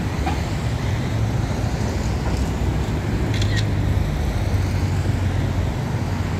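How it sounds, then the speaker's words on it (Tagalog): Steady road traffic on EDSA near Annapolis and Greenhills, with cars and buses passing. A continuous, loud, low rumble of engines and tyres runs throughout, with a few faint higher sounds on top. "traffic updates from EDSA Annapolis Green Hills."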